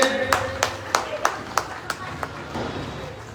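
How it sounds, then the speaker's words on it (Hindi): Audience at a religious discourse in an ashram clapping together in a quick, even rhythm, a string of sharp claps close by with faint background sound underneath. "साउंड सिस्टम सोहन जी के लिए जोरदार ताली से अभिनंदन करें।"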